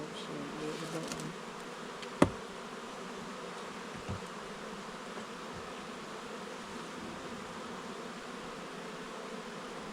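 Honeybees buzz steadily throughout an open beehive as a frame is inspected, a dense, continuous drone with a sharp knock near the start and a fainter bump a couple of seconds later.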